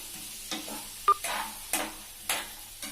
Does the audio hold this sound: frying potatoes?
yes